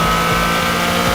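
A Toyota GR Corolla's sub-2-liter, 300-horsepower three-cylinder engine holds a loud, steady, close-up revving drone for a brief moment, with no voices.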